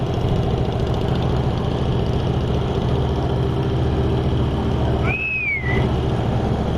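A convoy of 14 motorcycles riding together to a motorcycle club event gives a steady, loud low engine drone that holds constant throughout, with a brief rising whistle-like tone near the end and no talking.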